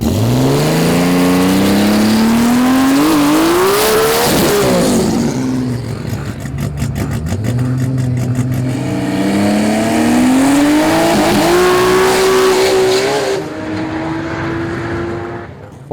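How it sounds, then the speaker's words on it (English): Holden VL turbo drag cars with single and twin cam RB30 engines scream through gear changes at a Melbourne drag racing event, loud and close, with engine pitch climbing repeatedly through shifts and a roaring pass. "VL turbos were out in numbers and made up the entire field using a mix of both single and twin cam RB30s."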